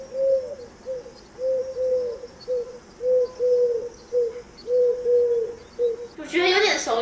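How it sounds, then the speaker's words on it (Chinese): Pigeon cooing used as a household sound-guessing quiz: a steady run of soft, low, rhythmic coos repeating about a dozen times over several seconds, then a brief burst of brighter noise at the end. "是鸽子啦，是鸽子"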